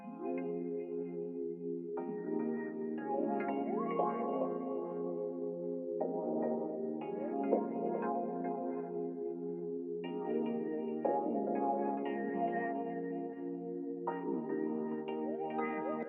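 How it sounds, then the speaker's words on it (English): Layered synth keys in FL Studio, a dark chord pattern with brighter stabs and gliding notes on top, repeating in two-second phrases, played alone without talk. "Then I've just layered it with another like synth keys that sound like this."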